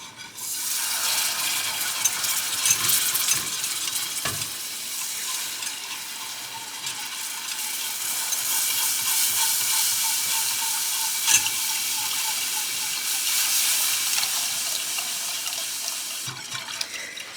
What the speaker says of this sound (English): now we are going to add in our milk while we whisk